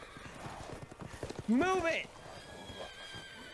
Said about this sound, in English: There are fuckers on horses.